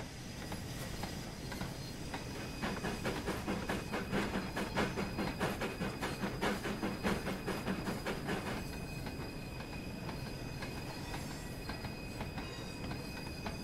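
A Fowler 4F steam locomotive shunts a rake of plank wagons and a box van on the Peak Forest Railway in Train Sim World 3, with continuous wheel squeal, rhythmic clickety-clack and hiss rolling along steadily.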